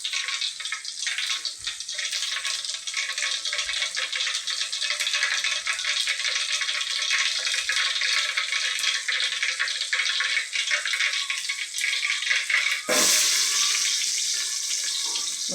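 Mustard seeds spluttering in hot oil for avarakkai kara kuzhambu, a dense steady crackle and hiss running throughout, loud and close, with a brief sharper burst near the end and no talk.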